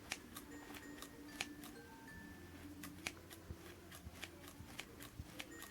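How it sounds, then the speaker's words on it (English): Scissors make small, repeated snips into foam while shaping a Gudetama squishy, giving faint irregular clicks spread across a quiet background. "just make really small snips with your scissors and just make it as smooth as possible."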